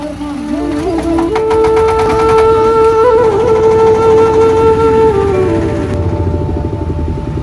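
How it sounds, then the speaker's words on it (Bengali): A trawler boat engine drones loudly and steadily at a traditional boat race, its pitch rising a little as it runs, with a rhythmic mechanical chugging underneath. "তো ভাই এখন ট্রলার চলবে"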